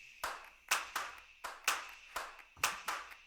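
A looped clap pattern in a music production's drum section, about seven sharp, bright claps at uneven, syncopated spacing, each with a short reverberant tail, standing alone without voices.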